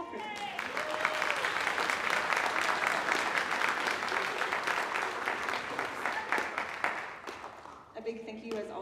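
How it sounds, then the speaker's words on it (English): An audience at a school jazz concert applauds steadily, a dense wash of clapping that thins into scattered claps near the end, with light crowd noise mixed in. "Let's clap for them."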